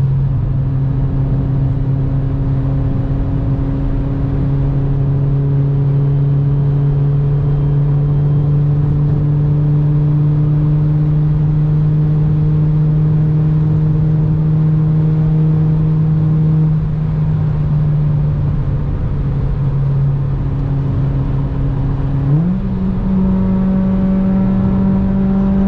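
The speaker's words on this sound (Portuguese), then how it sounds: "Esses caras dessas Volvo adoram acelerar, né, velho?" A Volvo vehicle's engine drones steadily and loudly as it accelerates along the road, holding a steady pitch before dipping and rising sharply with a gear change near the end.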